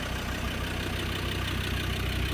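A Land Rover Discovery 2 with a manual gearbox and a TD5 diesel engine fitted with a turbo idles steadily close by. A constant low engine drone runs under a faint high whistle, with no one speaking.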